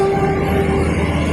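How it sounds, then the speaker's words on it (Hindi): A Delhi metro train pulls into a station with a loud, steady rumble and a brief high horn or whistle tone over the noise. "भाई की इच्छा पे विश्वविद्यालय वाली मेट्रो आ चुकी है"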